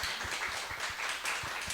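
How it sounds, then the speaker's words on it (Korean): Church congregation clapping in welcome for a visiting pastor and a doctor during a Sunday worship service, a quiet, steady patter of many hands with soft individual claps recurring over a short stretch. "박수를 환영하도록 하겠습니다"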